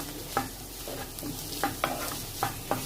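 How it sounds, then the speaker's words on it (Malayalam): Ginger garlic paste and green chilies sautéing in a pan, a soft steady sizzle broken by a few spaced spatula taps and scrapes over about three seconds, no voices. "ജിഞ്ചർ ഗാർലിക് പേസ്റ്റ് ചേർത്തിട്ട് ഇതിൻ്റെ പച്ചമണം മാറുന്ന വരെ ഒന്ന് വഴറ്റിയെടുക്കാം."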